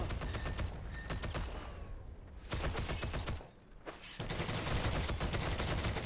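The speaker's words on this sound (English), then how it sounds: "this guy headshot me with the parabellum" Gunfire in the WWII shooter Heroes and Generals, including shots from a Parabellum pistol: a few sharp reports, bursts of rapid fire and mechanical clatter, close and loud, with a brief lull near the middle and no speech.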